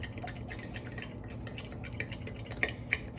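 A utensil stirring food in a pot, with soft scraping and light clinks against the sides that build to a couple of sharper taps near the end, close up and with no talking.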